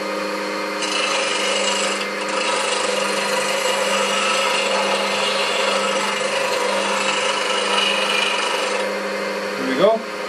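A bench grinder sharpening a 1/2 inch bowl gouge held in a sharpening jig, giving a steady continuous abrasive grinding rasp over a constant motor hum, loud and close throughout with no talk.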